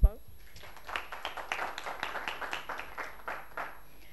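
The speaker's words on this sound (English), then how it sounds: "Round of applause." Scattered applause from an audience welcoming a guest at a Startup Grind Nairobi event, light and uneven claps following a brief thump, fairly faint in a room.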